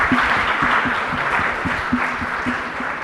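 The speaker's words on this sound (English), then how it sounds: "I want to give them a round of applause for the amazing job they did." Audience applause for an event's organising team at a youth summit in Berlin, a steady roar of clapping filling the hall for about three seconds with no voices over it.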